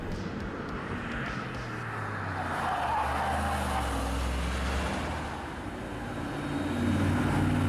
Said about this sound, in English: You're really getting up to like 170 miles an hour and you just slam the brakes until you stop